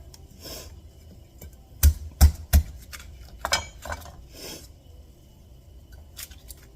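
A knife taps sharply against a cutting board three quick times while cutting garlic, followed by softer scraping and cutting sounds, close and fairly quiet.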